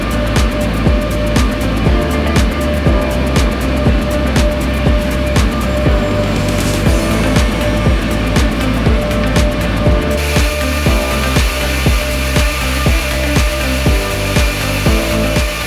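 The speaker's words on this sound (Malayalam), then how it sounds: "പ്ലക്കർ മെഷീന്റെ സഹായത്തോടെ അവയെ ചെറിയ നാരുകളാക്കി വലിച്ചെടുത്ത് പൈപ്പുകൾ വഴി ബ്ലോറൂം മെഷീനിലേക്ക് എത്തിക്കുന്നു" Plucker and blowroom machines shred yarn waste into small fibres in a lamp-wick factory, a loud, steady mechanical churn with a regular rhythmic knocking and a shift in tone partway through.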